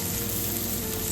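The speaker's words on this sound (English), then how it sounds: "Fry the onions down. So I've got butter and oil in there" Onions fry in butter and oil in a frying pan that was just used for beef, giving a steady, close and dense sizzle with no talking.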